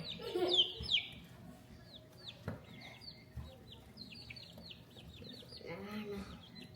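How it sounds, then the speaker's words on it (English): A rooster and hens in a backyard flock cluck and squawk intermittently at close range, with soft background rustling and faint human voices. "Because I'm going to name the last guy. The other rooster."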